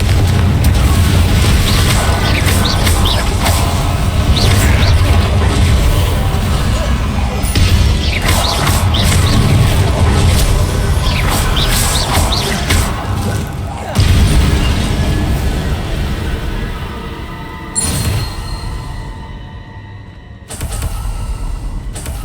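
The Confringo blasting spell in the game Hogwarts Legacy erupts in loud, booming explosions with crashing debris, rumbling continuously and then falling away into a quieter tail.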